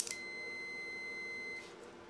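A Fluke multimeter in continuity-test mode gives one steady, clear electronic beep lasting about a second and a half, close and alone over faint room hiss.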